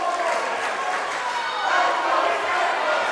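Student section dressed in red and pink cheering at a high school boys basketball game, a loud, continuous wash of crowd noise that surges a little past the midpoint, with voices shouting throughout.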